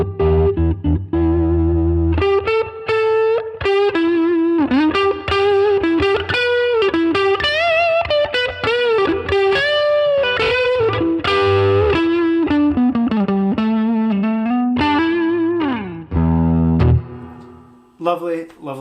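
Electric guitar through a Marshall DSL1CR 1-watt valve amp, played as a continuous run of distorted single notes and bends with effects, close and steady for most of the stretch before a brief pause and a final strum.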